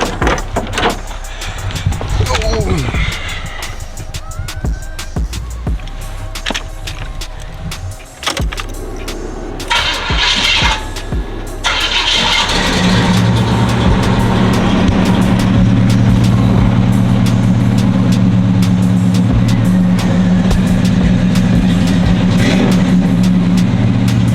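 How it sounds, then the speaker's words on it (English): A box Chevy Caprice gets a cold start: keys jangle and interior clicks first, then the engine cranks and catches into a loud, steady, rumbling idle that holds to the end. "Go ahead and give y'all a little quick cold start of my box Chevy Caprice."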